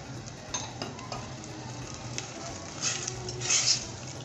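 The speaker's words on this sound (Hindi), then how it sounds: "और इसको हम इसी के साथ अच्छे से फ्राई करेंगे" Chicken pieces with soy sauce and lemon juice frying in a pan for shashlik, a steady soft sizzle with a few light clinks of a spoon against the pan and a brief louder crackle near the end; no talking.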